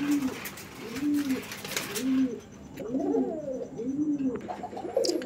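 A pair of Gopalganj pigeons coo in a steady run of about five low, rolling calls, close and clear over a soft background hiss.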